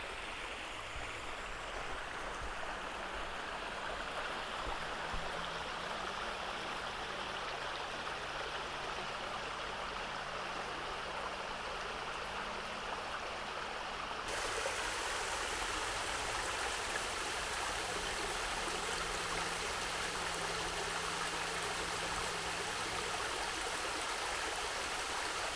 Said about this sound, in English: nice little waterfall on the creek here because the water level is fairly high after the rain yesterday